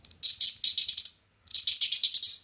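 A stonewashed titanium Chenyu Syntony fidget toy is handled up close, giving two bursts of bright, rapid metallic clicking and rattling separated by a short pause.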